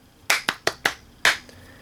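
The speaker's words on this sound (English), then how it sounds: "5 out of 5 claps." Five sharp hand claps in an uneven rhythm, four in quick succession and a fifth after a short pause, close and dry with no voices.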